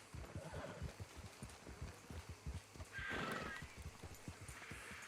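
A horse in Red Dead Redemption II whinnies loudly while its hooves clip-clop in a steady rhythm, up close with no talking.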